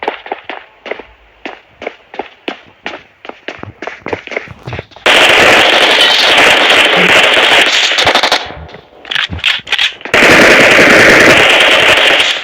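Rapid gunfire in a video game: first a string of separate sharp shots in quick bursts, then two long stretches of loud, continuous automatic fire with a short break between them.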